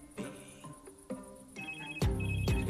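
Phone ringing in the Scream video game, a melodic electronic ringtone of repeated tonal chimes that builds and grows louder toward the end, alone without talk.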